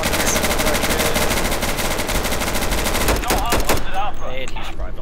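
Gunfire in the video game Insurgency: loud, sustained rapid automatic bursts that fill the scene and then thin to scattered shots.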